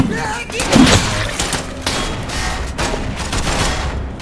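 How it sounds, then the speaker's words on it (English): Assault rifle fire in the video game City 17: Aftermath, a burst of sharp gunfire cracks up front, with further shots and thuds mixed among loud game sounds and players talking. "Assault rifle."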